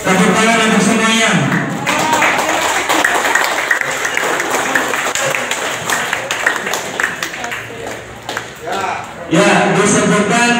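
An audience breaks into loud applause at a village head candidate number draw, clapping steadily for several seconds while a voice speaks over a PA system.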